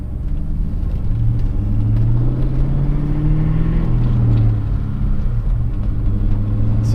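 A Ford Mustang Mach 1 with 4.10 gears drives on the road, its engine giving a steady, loud low rumble that holds for the whole stretch with a slight rise in the middle and no talk over it.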